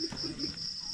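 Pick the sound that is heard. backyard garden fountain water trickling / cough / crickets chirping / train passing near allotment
crickets chirping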